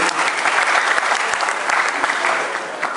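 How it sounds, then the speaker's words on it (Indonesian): Audience applause at a National Cooperative Day ceremony, a full steady round of clapping from a large crowd that holds level before easing off slightly at the end. "Kita memberikan aplaus."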